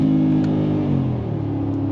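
A Brabus G700 G-Wagon accelerates on the Autobahn, its loud side exhaust pipes giving a deep, steady, rumbling engine roar that stays strong and close throughout.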